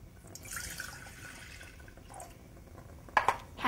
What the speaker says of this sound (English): We're going to add our milk